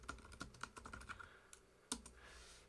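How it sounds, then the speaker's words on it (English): Quiet, close typing of a search query on a computer keyboard, a run of light, evenly spaced key clicks followed by one sharper keystroke, with no talking. "Just go up to the search bar and type in your search."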